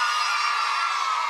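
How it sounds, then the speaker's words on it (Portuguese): A television studio audience shouts and cheers together on request at a Brazilian variety show, a loud sustained roar of many voices without a break. "Quem conhece Mussa Style aí? Dá um grito"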